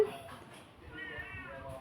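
A cat gives a faint, short meow close by, set against low background noise and soft human voices nearby.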